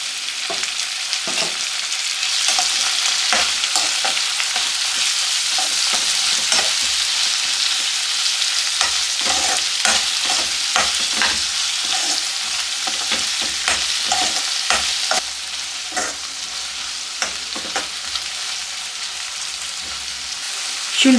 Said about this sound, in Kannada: ಈರುಳ್ಳಿ ಸ್ವಲ್ಪ ಗೋಲ್ಡನ್ ಕಲರ್ ಆಗೋ ತನಕ ಇದನ್ನು ಹೀಗೆ ಫ್ರೈ ಮಾಡ್ಕೊಳ್ಳೋಣ